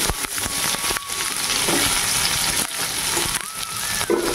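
Onions frying in a pan for a fish curry, heard as a loud, continuous close sizzle and crackle with brief stirring scrapes, no talking.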